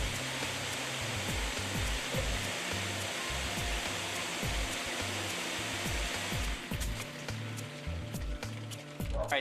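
A garden sprinkler hisses steadily as it sprays foliar feed over plants, a continuous close wash of spray noise with a faint low rhythmic pulsing beneath it and no voices.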